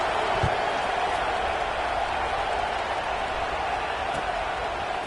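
Steady roar of a football stadium crowd at a college game against NC State, a broad continuous murmur without a break or a distinct cheer, with one brief thump near the start.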